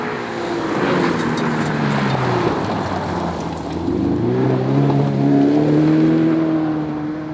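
A rally car engine on a dirt course rises and falls in pitch as the driver lifts off the throttle, the revs dropping in the middle before climbing again, close and fairly loud throughout with no talk.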